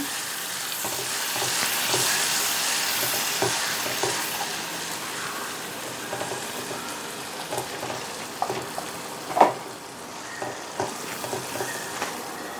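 Garlic paste sizzling in a pan over lowered heat, a steady bright crackle with occasional louder pops and spatters, no voices.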